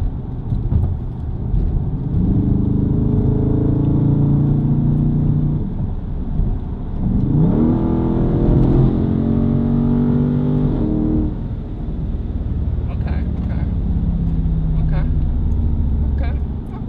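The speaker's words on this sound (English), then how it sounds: "It just sounds like that because the exhaust is very loud" A Dodge Charger 392 Scat Pack Daytona Edition engine revs in track mode with a loud, deep exhaust rumble that rises and falls in waves, with a person talking over it.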